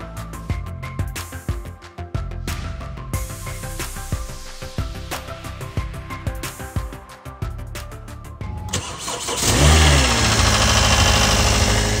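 Car at a Copart auction yard cranking and starting, with clicks and whirring before catching into a loud, steady close-up idle near the end.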